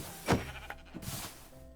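A sheep in a Minecraft-style survival game gives a single short bleat, close and clear, followed by faint game sounds with no talking.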